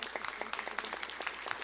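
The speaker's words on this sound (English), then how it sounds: "Round of applause for" Scattered applause at a scholarship challenge quiz event, a small group clapping with distinct individual claps, moderately quiet and brief.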